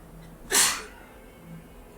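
A single sharp human sneeze bursts out near the mic, brief and loud, over a quiet background of game sound.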